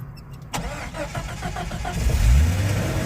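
A manual-transmission car's engine starts with a sharp crank that catches into a rising mid-pitched rumble, then revs up and settles. Loud and close, with no talk.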